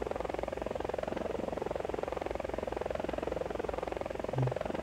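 Helicopter flying in the iCarly RPG video game, a steady rhythmic rotor drone held at moderate volume with a brief blip near the end, and no talk over it.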